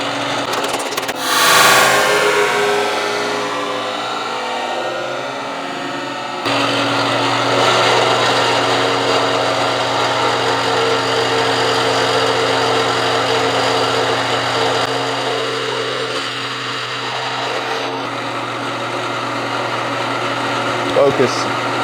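A machine tool cuts copper soft jaws for Wilton vises. After a short rattle, a steady loud whining hum sets in and drops in pitch partway through, with occasional faint talk nearby.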